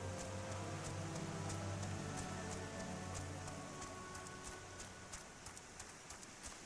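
Steady rain and wind in the video game Final Fantasy XIV, a dense hiss of falling rain with faint patters and a low rumble, gradually easing slightly.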